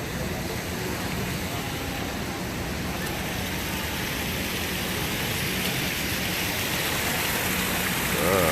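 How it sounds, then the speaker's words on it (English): Steady, broadband rushing water fills the whole stretch, a constant roar of a nearby waterfall along the San Antonio River Walk, Texas, with no pauses or breaks. "Waterfall."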